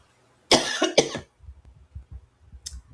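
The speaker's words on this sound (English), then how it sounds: "I'm sorry if y'all heard my cough" Two sharp, close coughs in quick succession, fairly loud against a quiet room, followed by soft low rumbling and a faint brief noise near the end.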